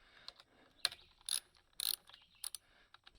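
A ratchet wrench loosens 10mm nuts on a pressure washer carburetor cover, giving several short bursts of close, quiet clicking with brief pauses between strokes.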